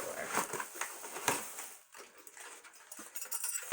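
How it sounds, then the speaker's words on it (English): Shards of a broken light bulb rattle and clink faintly inside a found mystery bag, a quiet scatter of small glassy taps and scrapes with no talking. "it looks like it sounds like a broken light bulb"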